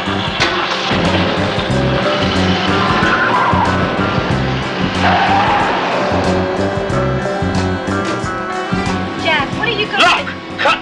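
A car in a 1978 Charlie's Angels episode tears off with loud screeching tire skids and a revving engine while voices shout over the commotion.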